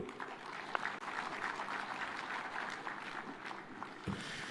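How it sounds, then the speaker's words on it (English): Crowd applause rolls through an outdoor political address in Homa Bay, Kenya, a sustained fairly distant wash of clapping with occasional louder individual claps and faint wind-like noise, no one speaking. "Another round of applause for Waziri."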